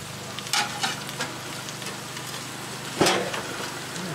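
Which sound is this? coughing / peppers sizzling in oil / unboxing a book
peppers sizzling in oil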